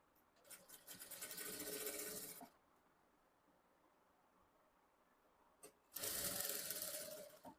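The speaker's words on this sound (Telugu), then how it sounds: "ఫోల్డ్ చేసి ఈ ఎడ్జ్లో స్టిచ్ వేసుకోవాలి." Sewing machine running in two bursts, about two seconds each, while stitching along a folded fabric edge. The bursts are separated by a quiet pause, with no talk in between.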